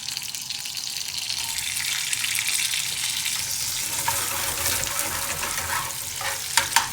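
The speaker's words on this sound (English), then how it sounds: "let's put the onions in." Onions sizzling and frying in heated, thinned base gravy in a pan, a steady close bubbling hiss with stirring, ending in a couple of sharp clanks of a utensil against the pan.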